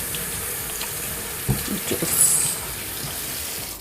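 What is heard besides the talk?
washing hands under running tap water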